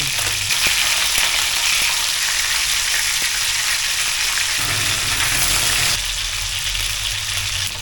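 Matang baka fish fry in hot oil in a pan, giving a dense, loud, continuous sizzle with crackling pops, briefly easing then surging again.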